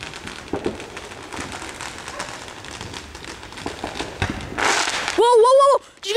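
A night fireworks display crackles and pops in the distance under continuous talking, with a louder noisy burst near the end followed by a short rising whistle.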